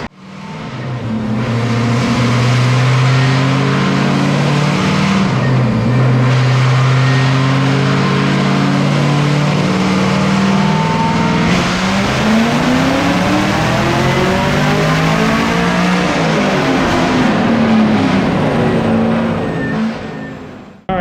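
A loud, throaty 2023 Camaro ZL1 engine drones and revs continuously on a dyno, rising and falling in pitch for about twenty seconds, close up with no voices.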